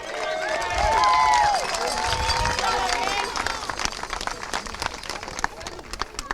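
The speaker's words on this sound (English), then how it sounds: "Give a round of applause for Notre Dame." A large crowd at a football championship awards event claps and cheers steadily, a broad wash of applause with shouts and whistles above it, continuing throughout.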